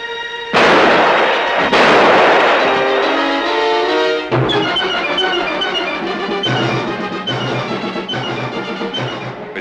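Two loud, booming gunshots ring out about a second apart in a 1949 Burt Lancaster film, followed by a sustained tonal score.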